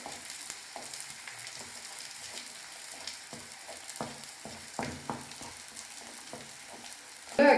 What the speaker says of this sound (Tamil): முட்டையை அப்படியே லோ ஃப்ளேமில் வச்சு கலந்துக்கலாம்